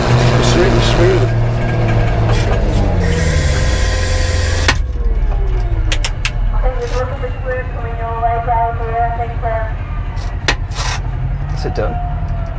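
Challenger tractor straining hard at a tractor pull, a loud, steady diesel roar that drops in pitch and eases after a few seconds, with crowd chatter and voices carrying on underneath.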